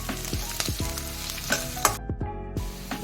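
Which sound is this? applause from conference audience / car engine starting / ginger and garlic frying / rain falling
ginger and garlic frying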